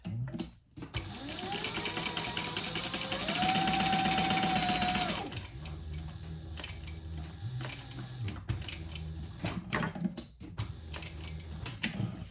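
A sewing machine stitches a quarter-inch seam on a crossbody bag, running fast in one long whirring burst that rises in pitch, then drops to slower, shorter runs with brief pauses between.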